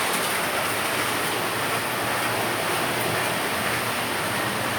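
A model railroad train runs on a club layout, a continuous dense rushing rumble with steady mechanical hiss, close and loud throughout.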